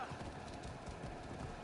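Faint horse hooves clip-clop in a steady, quick rhythm, as if the horse were close by, with voices talking softly over the sound.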